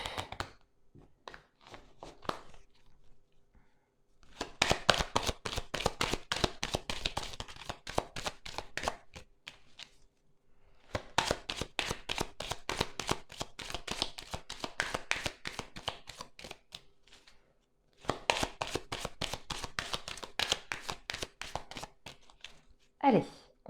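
Petit Lenormand card deck being cut and shuffled by hand, three long bursts of rapid crisp riffling clicks separated by quiet pauses, close and clear, with a few soft taps in between.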